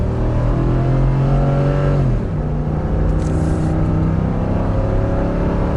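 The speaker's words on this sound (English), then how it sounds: "it accelerates a lot like the old truck" A 2019 Ford F250 pickup accelerates up a hill, its engine a steady loud drone heard from inside the cab, with a shift in pitch partway through.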